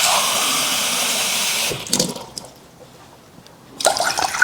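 A glass of water pours into a pot in a home kitchen while a hair spray is being made: a steady splashing pour, then a pause with a few light clunks, then a short renewed splash.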